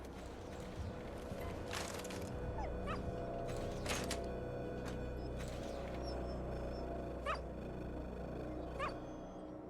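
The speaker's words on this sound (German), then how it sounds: "Oh, es ist ein hässlicher Hund." A dog in the video game Fallout 4 gives several short whimpers and yelps, scattered over a quiet, humming game ambience.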